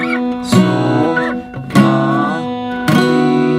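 Acoustic guitar chords built on the notes of a major scale, strummed one after another with three bright, ringing attacks about a second apart, each left to sustain; close and fairly loud, no talking.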